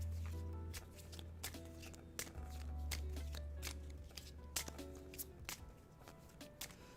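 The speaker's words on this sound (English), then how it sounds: "So we'll shuffle the 4 aces into the outward deck" Playing cards are shuffled into a deck: a series of quick, crisp riffles and taps in uneven bursts, close and quiet, with a low background hum and no talk.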